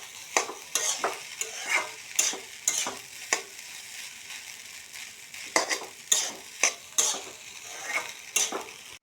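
Fried rice stirred in a pan, a spatula scraping and clinking against the metal in quick irregular strokes over a faint sizzle, close and clear.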